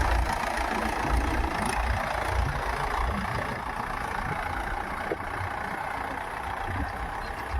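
A Yuvo Tech Plus 575 tractor engine idles in a field, making a loud, steady low rumble that holds even and continuous with no talk.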